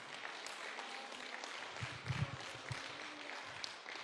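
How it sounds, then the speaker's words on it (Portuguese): A church congregation applauding during a sermon, a faint, diffuse patter of clapping from many people that swells briefly in the middle before settling back, heard from a distance with no talk. "Aplaude ao Senhor"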